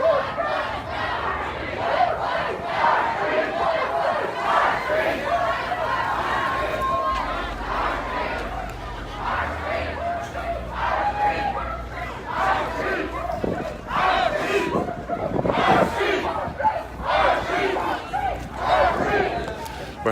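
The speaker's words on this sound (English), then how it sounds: "You see the crowd." A street protest crowd on Lake Street near Cup Foods at 38th and Chicago keeps up loud, continuous shouting and chanting. Overlapping voices and babble form a dense, close roar that surges throughout.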